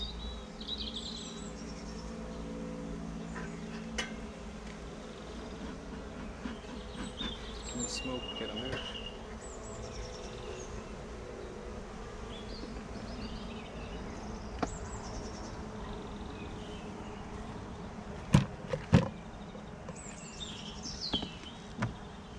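Honeybees buzz steadily around an open hive during an inspection outdoors, a dense continuous drone with occasional sharp clicks and knocks near the end.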